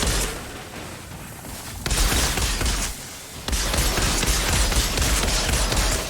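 Gunfire blasts through fights with enemies in the video game Outriders: dense, loud bursts of rapid shots in two long stretches, broken by a short quieter lull.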